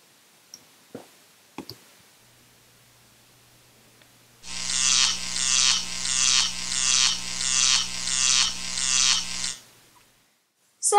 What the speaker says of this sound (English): this is how you can make the electricity effect in iMovie 11